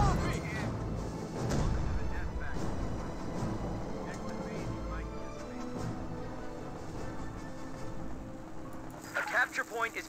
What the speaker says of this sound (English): multiple Zis guns barrages raining on in